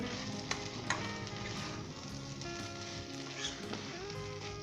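Aloo gobi, a potato and cauliflower curry with fresh coriander, sizzles steadily in a pan while being stirred, with a few sharp scrapes of the spoon over the continuous frying hiss; no one speaks.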